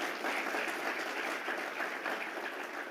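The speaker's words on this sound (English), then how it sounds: "So do give them another round of applause" An audience claps at a public forum, a dense, even wash of applause that stays steady for a few seconds, with no talk over it.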